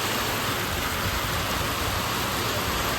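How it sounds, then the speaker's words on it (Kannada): Heavy rain pours down in a dense, continuous roar close by, with no voices over it. "ಸಖತ್ ಮಳೆ ಮಾತ್ರ. ಆಯ್ತು ಇದೆಂತ ದರಿದ್ರ ಮಳೆ"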